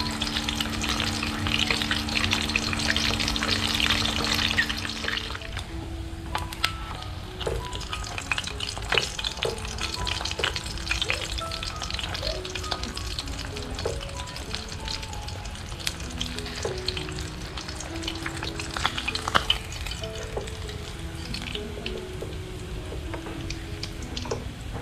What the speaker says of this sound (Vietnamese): Này chiên thì cái da này chú chiên nó hơi bị nổ á.